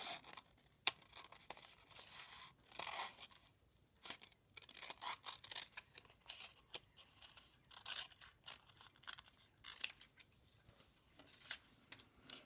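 Scissors snip through paper for an origami envelope box, making quiet, close crisp cuts and rustles in irregular bursts with short pauses.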